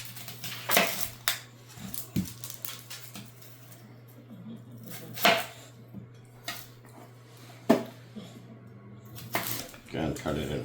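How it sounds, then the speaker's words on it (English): A knife cuts through half an onion on a board, making a handful of sharp, spaced-out chopping knocks close by, with faint voice and kitchen sounds in between. "Maybe I'll cut another half an onion."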